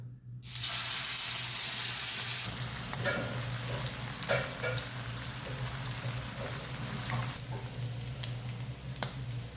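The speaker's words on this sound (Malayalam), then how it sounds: "അതിലേക്ക് നമ്മുടെ മത്തി ചേർത്ത് വറുത്ത് കോരിയെടുക്കുക." Sardines sizzle steadily in hot oil in a pan, a loud frying hiss with occasional stirring clicks and scrapes.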